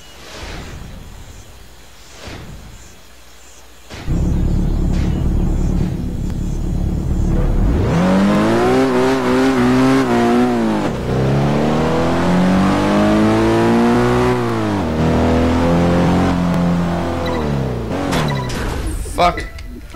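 An Alfa Romeo car engine in Test Drive Unlimited 2 idles and then revs hard. Its loud, rising engine note climbs repeatedly as the car accelerates through gears.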